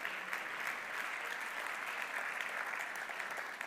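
Steady applause from a seated audience at a marketing awards ceremony greets a joint bronze prize, an even wash of clapping sustained throughout without speech.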